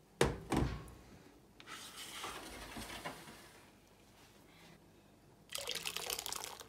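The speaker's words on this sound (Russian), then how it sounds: "Сейчас еще наливаем воды." Water splashes and pours into a container of pike roe being rinsed, with soft sloshing and handling noises in between and a louder pouring burst near the end.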